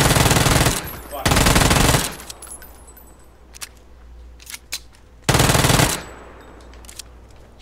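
Loud, sustained automatic gunfire in a dinosaur survival video game comes in three long bursts, separated by scattered single shots and quieter game noise.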